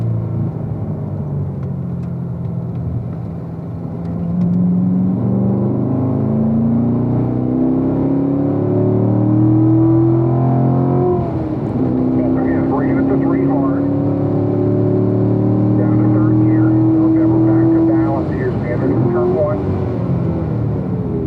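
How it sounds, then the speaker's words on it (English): A Corvette race car engine accelerates on a track, heard from inside the car as a steady loud drone. The pitch rises through gears with short lifts between them, under continuous talk. "We'll get a big run down the front stretch and start picking up our speed here, John."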